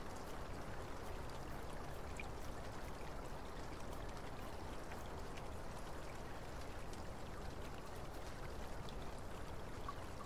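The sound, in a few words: rain in Black Mirror II video game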